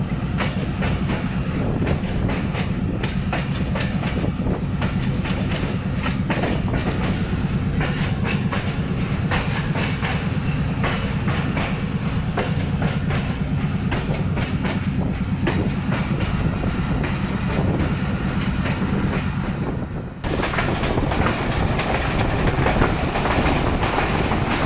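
Narowal Passenger train rolling along the rails between Raiya Khas and Pejowal, a steady loud rumble with continuous clickety-clack of wheels over joints and a brief dip near the end.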